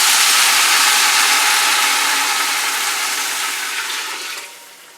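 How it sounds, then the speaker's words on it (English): Water pours steadily and loudly into a soup pot, a full rushing splash that tapers off near the end. "And then I'm going to add in 8 cups of water to start."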